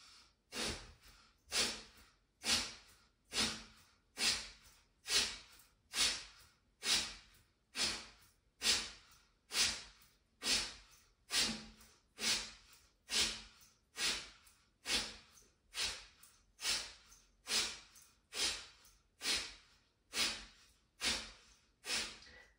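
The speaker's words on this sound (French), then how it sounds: "L'inspire est partiel, donc il est très court, l'expire est très puissant." Rhythmic yoga breathing with short partial inhales and forceful exhales, about twenty evenly spaced breaths in a steady pulse, close and clear with no voices.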